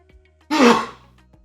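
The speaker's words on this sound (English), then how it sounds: "Had to sneeze there." A single sneeze from a man during a data science talk, one sharp burst that fades quickly, close and fairly loud against a quiet room.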